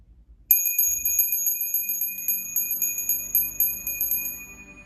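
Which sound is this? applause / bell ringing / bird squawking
bell ringing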